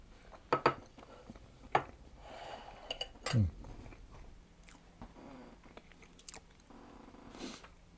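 Someone bites into a slice of apple and sultana tart topped with squirted cream, with a few soft, close bites and quiet chewing, plus an occasional clink of cutlery or plate, all fairly faint.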